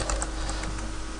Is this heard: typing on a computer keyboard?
yes